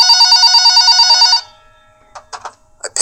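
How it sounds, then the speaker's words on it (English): A telephone on a store counter rings loudly and close for over a second in a steady trilling bell pattern, then stops, leaving faint scattered clicks and handling noises. "the phone on the counter rang."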